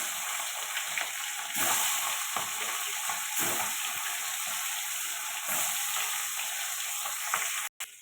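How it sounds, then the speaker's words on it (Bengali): Bhola fish fries in hot oil in a kadai with a loud, close, continuous sizzle and crackle, steady throughout apart from a brief dropout near the end. "এবার মাছটা দিয়ে দেবো"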